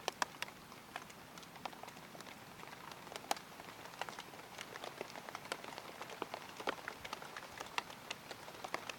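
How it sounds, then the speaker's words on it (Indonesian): Rain falls outdoors during a fishing trip, a steady soft patter of drops hitting surfaces, faint and continuous with scattered sharper drips. "hujan lagi"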